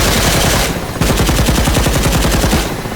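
Rapid continuous machine gun fire from a Mi-8 helicopter in the DCS flight simulator, a steady stream of sharp shots with a brief dip before the burst resumes.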